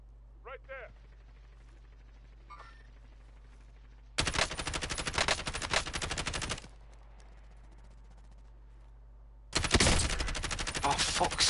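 Gunfire in the Warzone video game comes in two long, dense bursts of rapid shots, loud and close. Quieter gaps with faint chirps and a brief voice sit between them.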